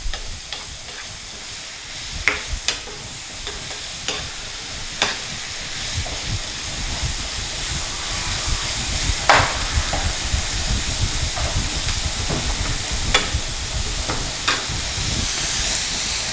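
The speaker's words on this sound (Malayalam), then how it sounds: "ഞാൻ ഈ സവോള വഴറ്റിക്കൊണ്ടിരിക്കുന്ന സമയത്ത്" Onions sauté in a pan for beef fry, giving a loud continuous sizzle and hiss with periodic sharp scrapes and clinks of stirring.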